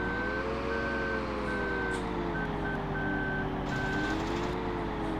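Truck reversing at a Belgian quarry while unloading two tonnes, its backup alarm beeping in regular pulses over a loud, steady engine rumble.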